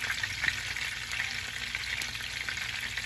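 A large talakitok fish frying in a pan, a steady loud hiss of hot oil sizzling close up, continuous with no talking.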